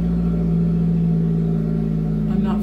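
A loud car engine nearby rumbles at a steady, deep pitch for a few seconds, a continuous drone with a slight change near the end.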